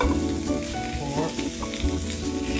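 Hot dogs sizzle loudly in a hot pan as they are flipped and seared. The frying crackle is steady and close, with light scraping and stirring sounds mixed in and no talk.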